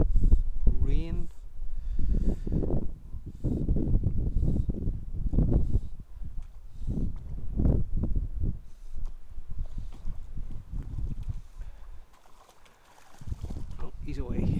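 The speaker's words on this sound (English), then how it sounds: "The weather is already windy." Gusty wind buffets the microphone in rough low rumbles, nearly continuous, with a brief lull toward the end.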